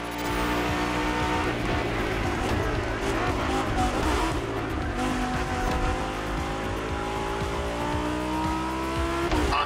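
Lamborghini and Ferrari race cars roar together in The Crew Motorfest, a dense, steady engine drone with rising and falling harmonic pitches, tire squeals and skids, loud and close throughout.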